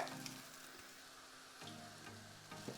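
Murukku made from urad and rice flour dough fries in hot oil, giving a faint, continuous sizzle with a few soft bumps of dough going in, and no one talking.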